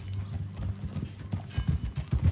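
A horse's hooves clip-clop at a steady riding gait in the video game Red Dead Redemption 2. The dull, rhythmic thuds sit over a soft background rumble and grow louder toward the end.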